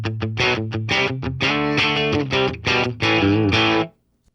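Electric guitar through the bright crunch amp model of a Boss Katana, loud and close, with a run of short choppy stabs then sustained distorted chords that cut off into silence near the end.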